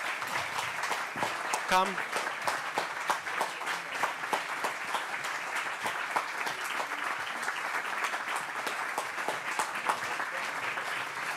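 Steady applause from a large conference audience rolls on throughout, with a brief spoken word near the start and a short whistle-like squeal.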